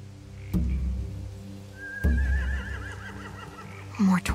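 Horses neighing in The Walking Dead: The Final Season game, a few whinnies heard nearby with sharp thuds between them.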